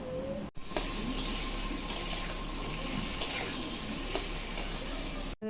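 Potatoes coated with turmeric and salt fry in hot oil, giving a steady close sizzle with occasional ticks and clinks from stirring in the pan.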